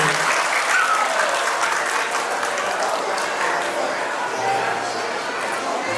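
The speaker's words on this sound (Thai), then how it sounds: "ขอเสียงปรบมือให้ท่านคุณพ่อและคุณแม่ของเจ้าบ่าวและเจ้าสาวค่ะ" Loud, sustained applause at a wedding reception honoring the parents of the bride and groom, a thick continuous roar of clapping filling the room with some voices mixed in.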